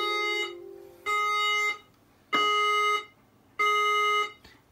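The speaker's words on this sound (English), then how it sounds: "I'll get a magnet and we'll set off the smoke alarm. So this will cause a 45 second alert and I won't silence it" A fire alarm system's alert buzzer, set off during a two-stage evacuation test, sounds in four loud, harsh electronic bursts with short silent gaps between them.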